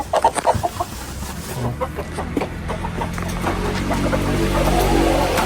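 Several chickens clucking close by, short choppy calls at the start then a looser scatter of clucks over a rising background hum.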